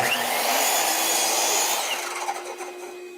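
A miter saw slices through a clamped piece of wood at an angle, a loud whining cut that holds briefly and then spins down as the blade slows.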